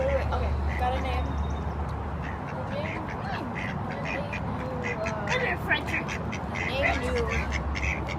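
Geese at a pond honk and quack repeatedly in a lively, fairly close group, their calls running over steady outdoor background noise while people talk nearby.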